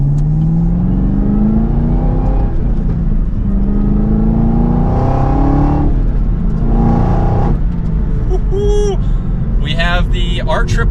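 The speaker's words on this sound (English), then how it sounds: "Just like this here, we can give it an acceleration now." A 2023 Chevrolet Camaro ZL1 with R888 rear tires pulls hard under full acceleration, its engine and exhaust climbing in pitch through several upshifts, loud and steady from inside the cabin, with a voice speaking over it.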